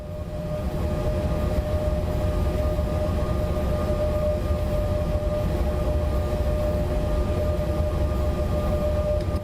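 A DB class 101 electric locomotive in Train Sim World labors up a hill, producing a steady, loud drone with a sustained tonal whine running unchanged throughout.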